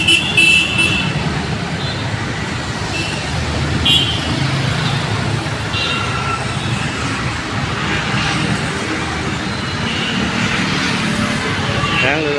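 Busy morning road traffic in Bangalore, a steady dense wash of car, bus and engine noise rumbling continuously at close range, with louder vehicles swelling past now and then and no gaps of quiet.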